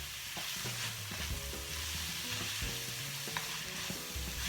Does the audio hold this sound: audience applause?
no